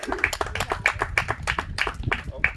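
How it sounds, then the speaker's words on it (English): Wedding guests clap for newly pronounced husband and wife at their ceremony, a steady patter of many hands close by with a few louder claps on top, lasting a few seconds. "Everyone give a big round of applause for Mr. and Mrs. Rodriguez."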